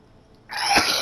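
A single close sneeze, a short sudden burst of breath that swells and then hangs on for a moment, loud and alone.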